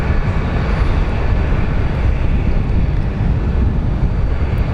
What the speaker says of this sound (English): we have an A321 that is headed to Ontario